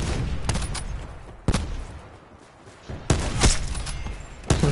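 Gunfire in a shooting video game, with sharp separated shots and short bursts over a steady rumbling background.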